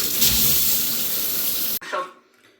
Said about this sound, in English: So let's get into the shower.